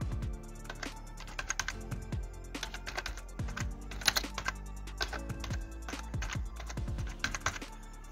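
Typing on a computer keyboard, irregular bursts of close, crisp key clicks and clacks with brief pauses between runs, heard alone without speech.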